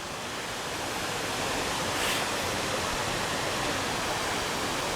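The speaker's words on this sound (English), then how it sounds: "that is a beautiful waterfall" Steady, broad rushing of falling water, constant and fairly loud, with no voices.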